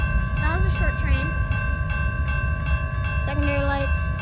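A short CN shortline freight train at St. John's, engine 5746, passing under steady rumble with sustained horn-like tones and a whistle blast near the end, with some talk in the background.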